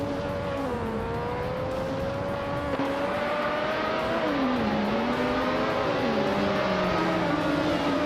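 Several race car engines (Osella F1L) in a racing video game whine together, their pitches gliding up and down as cars rev and shift. The sound is steady and loud throughout, with no talk.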